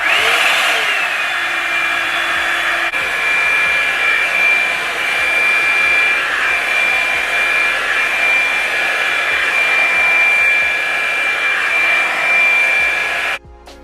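Hair dryer on low heat, a loud steady whooshing blow that runs continuously for several seconds while drying flexi rods on stretched natural hair, up close with no talking, cutting off abruptly at the end.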